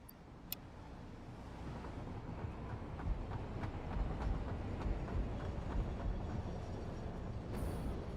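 A train rolls past in the factory-building video game Satisfactory, a low rumbling drone that swells gradually and holds steady at moderate volume, with no talking.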